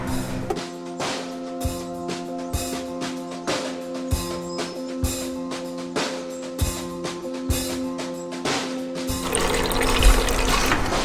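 Purified rainwater poured into a blender with coconut meat, a steady liquid splash with rhythmic pulses and a brief rushing swell near the end.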